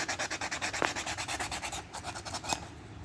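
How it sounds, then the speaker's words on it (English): Sandpaper rubbing surface rust off metal parts on a 1991 Camaro, a fast, steady back-and-forth rasp of even strokes, close up and continuous with no voices. "Now I'm just taking some sandpaper and trying to get all the surface rust off of this that I can."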